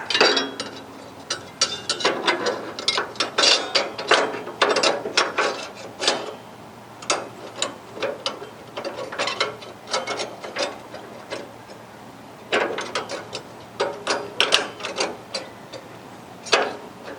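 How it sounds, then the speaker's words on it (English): Screws are driven with a ratcheting tool while a Member's Mark griddle is converted to natural gas, producing bursts of rapid clicking that start and stop repeatedly, close and fairly loud, with short pauses between runs. "I'll put all the screws in for now just to hold things in place here."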